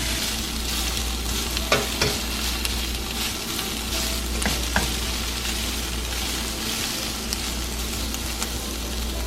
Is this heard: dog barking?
no